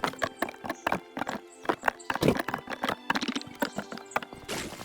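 Horse hooves clip-clop in the cozy building game Tiny Glade, a quick run of light, uneven taps close by with a faint whinny-like sound, and no voices.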